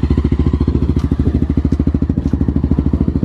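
A Honda XRE 340cc motorcycle engine idles loudly up close, a rapid, even low-pitched thumping pulse with a rough, throbbing rumble.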